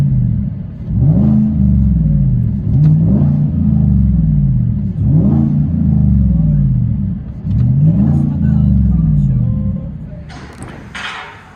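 A 2018 Chevy Suburban with a 5.3L V8 and straight-pipe dual exhaust, heard from inside the cabin: deep repeated revs rising and falling in a rumbling rhythm, loud and droning, ending with a short burst of voice.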